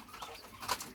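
A male quail calls once, a brief chirping note heard close but faint against quiet background noise.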